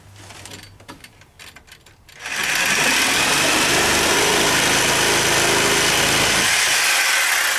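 A power tool starts up and cuts into a wooden beam on a chicken coop, a loud steady whining buzz lasting about four seconds before cutting off, preceded by light handling knocks.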